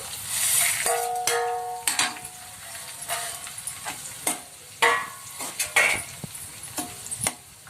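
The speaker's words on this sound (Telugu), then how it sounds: "వీటిని బాగా అయితే ఫ్రై చేసుకోవాలి" Urad dal, mustard seeds and cumin frying in hot oil with dried red chillies, a steady sizzle broken by sharp crackles and pops and the clink of a spoon against the pan, no talk.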